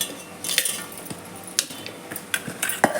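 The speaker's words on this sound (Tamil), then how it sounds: "இப்போ இதில் மிளகா கட் பண்ணி போட்டுக்கிறேன்." Knife cutting chili peppers for a spinach buttermilk kootu, a sparse, irregular series of sharp taps and clicks against a board, close and moderately loud with quiet gaps between strokes.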